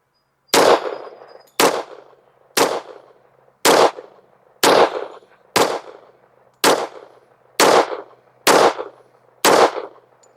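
Ten .45 Federal rounds are fired from an M&P pistol fitted with an Apex Tactical trigger and an extended magazine, ten loud, sharp shots about one second apart, each followed by a short ringing decay, with no voices between them.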